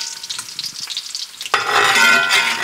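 Bacon renders in a pan with a quiet, patchy crackle at first, then a sudden jump to a loud, dense, continuous sizzle that holds to the end.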